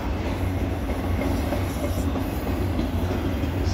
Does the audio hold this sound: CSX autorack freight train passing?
yes